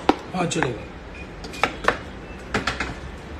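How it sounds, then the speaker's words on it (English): A knife slices through bell peppers on a cutting board, giving several sharp, close knocks and thuds in uneven bursts with faint clatter of kitchenware between them. "so I'm just cutting off the cheeks of the peppers."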